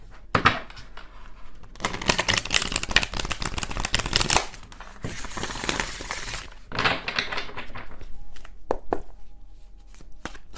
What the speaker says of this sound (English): One more shuffle and then